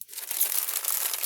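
Plastic bags rustle and crinkle close up in a short burst of crisp, dry crackling handled by hand, heard alone with no talk.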